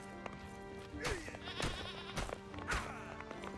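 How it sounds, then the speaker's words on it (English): A mountain goat in the Moria video game bleats in a few drawn-out, wavering calls over game sounds, close and fairly loud. "This mountain goat is not gonna go down without a proper fight."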